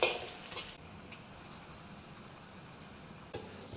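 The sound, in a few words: garlic slices frying in oil in a wok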